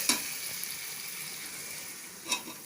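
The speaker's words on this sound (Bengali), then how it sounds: "আমি এবার এর মধ্যে দিয়ে দেব দুধ" Milk poured into a pan of sizzling chicken korma makes a steady, soft hiss and bubbling sizzle, with a couple of faint splashy clinks at the start and end.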